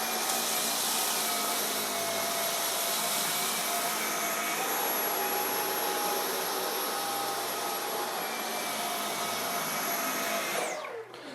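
A Dyson cordless stick vacuum running on auto mode, a loud continuous high-pitched whooshing whine held steady for about ten seconds before spinning down at the end, with no talk.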